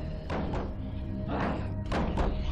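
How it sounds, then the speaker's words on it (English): Zombies bang on a door in the survival game State of Decay, giving three heavy, muffled thuds spaced about a second apart over a steady low background rumble. "They're banging on the door, I think."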